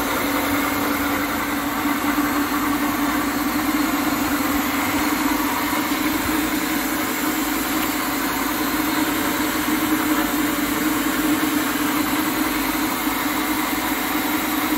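A 2HP three-phase induction motor runs at a constant speed with a steady, even hum and high-pitched whine that never changes in level for the whole stretch.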